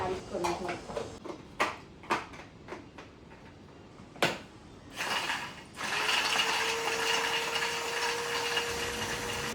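An electric chopper whirs steadily for several seconds as it minces garlic and ginger, after a run of sharp clicks and clatters from setting it up. The motor noise is close and continuous, and no one talks.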